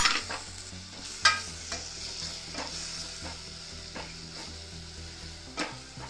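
Masala with coriander and curry leaves stirred in a pan for tomato rasam, spoon scraping in soft repeated strokes with a faint sizzle underneath and a few sharper clinks against the pan.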